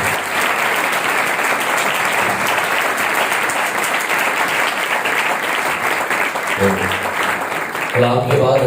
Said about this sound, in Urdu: تو ہم آج ساری فیملی کو زوردار تالیوں سے ویلکم کرتے